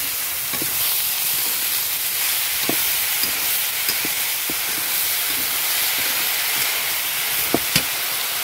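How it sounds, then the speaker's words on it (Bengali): Susuni shak leafy greens fry in a pan with a steady hissing sizzle and rising steam, punctuated by scattered clicks and scrapes from stirring. "এইভাবে আমরা শাকটাকে সুন্দরভাবে ভেজে খাই"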